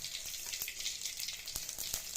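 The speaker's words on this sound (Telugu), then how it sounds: "ఇవన్నీ దాంట్లో వేసి మనం ఇప్పుడు తాలింపు చేయాలి ఆవాలు జీలకర్ర ఫస్ట్ వేయాలా చూడండి" Mustard seeds and cumin sizzle in hot oil for a tempering, a faint, steady crackle with scattered small pops heard alone.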